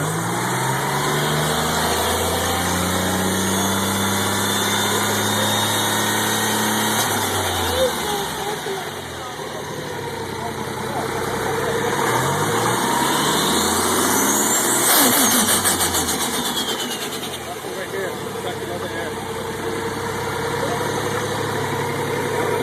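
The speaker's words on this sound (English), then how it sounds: "It's the wastegate. It's releasing the over boost" A revving turbocharged engine with turbo whoosh and a hissing wastegate releasing overboost, pitch rising and falling over a steady running motor, close and loud.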